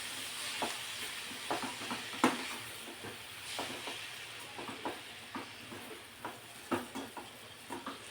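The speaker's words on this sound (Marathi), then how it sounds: "आता यामध्ये हा बारीक चिरलेला पालक टाकून घेते।" Finely chopped spinach tossed in hot tempering for a spinach and gram-flour dish, giving a soft, faint sizzle with scattered light clinks and scrapes of stirring, no voices.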